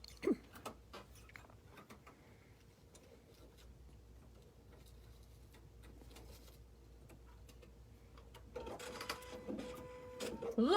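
A Husqvarna Viking embroidery machine with a hat hoop attachment stitches letters in one run, a quiet, rapid mechanical ticking that gets louder and busier near the end.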